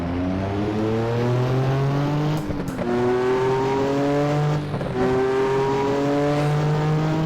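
A 1.6-liter 1980s non-turbocharged car engine in a racing simulator game drones loudly and steadily, its tone climbing through the revs with two short dips where it shifts gear.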